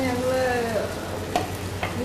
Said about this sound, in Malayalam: ഈ പ്രോൺസ് ഒന്ന് ഫ്രൈ ചെയ്തിരുന്നു